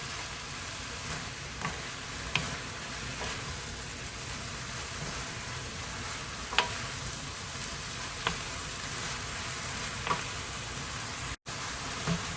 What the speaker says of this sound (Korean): 자, 섞어가면서 볶아주세요.